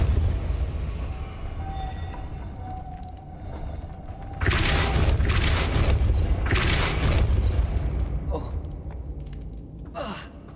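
A Depulso force spell is cast in Hogwarts Legacy, a sudden whooshing burst that swells into a loud rushing blast, followed by a second surge and a fading tail after a quieter stretch.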